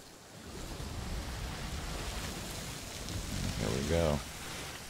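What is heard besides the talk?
rain and thunder of a storm in a sailing video game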